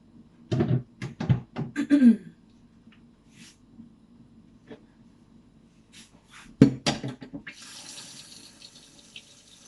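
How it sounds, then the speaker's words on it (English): Sorrel is washed under a running kitchen tap, with bursts of splashing water at the start, a quieter pause, then another gush that settles into a steady hiss at the end. "So I'm gonna give this a wash and set to the side."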